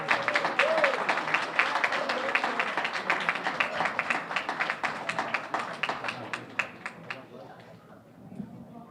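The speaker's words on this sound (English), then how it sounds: "One more round of applause for Dandee Donuts." Audience applause at the Revere Chamber of Commerce awards, steady and close for most of the stretch, then thinning to scattered claps at the end, with voices audible underneath.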